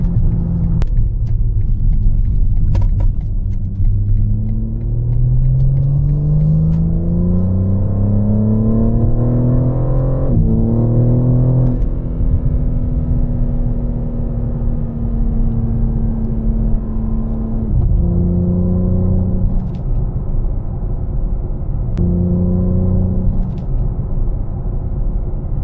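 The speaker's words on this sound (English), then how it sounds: "this is only a catback exhaust" A BMW M4 fitted with a Valvetronic catback exhaust rumbles steadily and loudly up close, its deep drone rising and falling through a couple of rev sweeps before settling back to idle.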